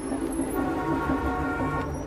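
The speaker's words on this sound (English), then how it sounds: "It's a 7-hour train journey from Beijing out to Henan province in the very center of China." A train travelling from Beijing to Henan province in central China produces a steady rumbling drone with a faint rolling rattle, as heard from onboard, and no voices.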